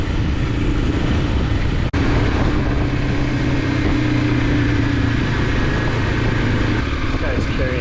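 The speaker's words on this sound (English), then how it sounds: "Two other guys on dirt bikes up here." Dirt bikes ride along a hilly mountain road on the Ha Giang Loop in Vietnam, giving a loud, steady engine drone that holds throughout with a brief sharp click partway through.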